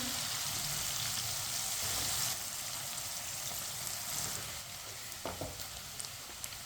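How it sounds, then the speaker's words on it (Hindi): Chicken frying in a pan, a steady close sizzle and crackle of hot oil that runs throughout, easing slightly partway through, with a few small clicks near the end. "इसे 5 मिनट के लिए फ्राई करना है, चिकन को कच्चा नहीं रहने देना।"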